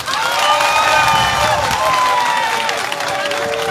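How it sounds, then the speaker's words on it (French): Audience applause and cheering at a political campaign rally in the Nawa region of Côte d'Ivoire, a dense, steady wash of crowd noise sustained loudly throughout with raised voices mixed in. "Il faut applaudir ça."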